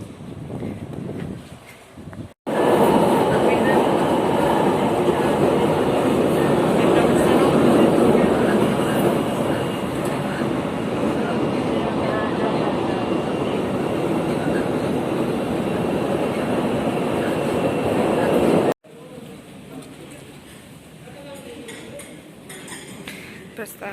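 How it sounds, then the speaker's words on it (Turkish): An İzmir metro train runs past loudly with a steady rushing roar and rhythmic track clatter, starting abruptly and cutting off near the end. "Metro."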